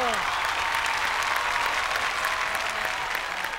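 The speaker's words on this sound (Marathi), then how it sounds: "जोरदार टाळ्या झाल्या पाहिजे त्यांच्यासाठी" Studio audience applause at a Marathi comedy show, steady and dense throughout, filling the room at an even loudness with no break.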